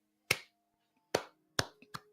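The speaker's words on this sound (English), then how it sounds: "slow clap." Four sharp, isolated hand claps spaced unevenly in a slow rhythm, close and dry against near silence, the last two coming quicker.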